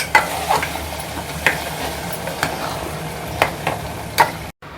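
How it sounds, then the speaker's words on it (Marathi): Stuffed brinjal curry being stirred in a pan with a spoon, a series of sharp scraping clinks recurring every second or so over a soft background simmer, close and fairly quiet, with no talking. "ढवळून बघूया किती घट्ट आहे ते"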